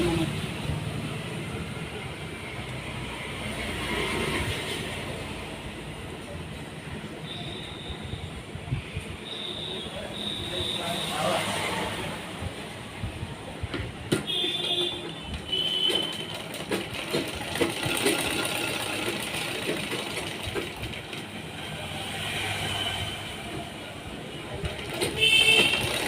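Sewing machine stitching a dabba neck design on fabric, a steady, fairly loud mechanical whirring and rattling that runs continuously with slight speed changes and occasional higher clicks.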